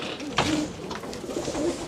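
Racing pigeons in a loft give low, soft coos in short repeated phrases, moderately close, over faint background noise.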